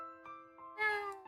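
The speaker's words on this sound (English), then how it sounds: "it's meowing, and all of you can hear the meowing now." Short cat meow, a few faint tonal calls rising into one louder drawn-out meow, close and clear with no talk over it, played during a tabletop role-playing session.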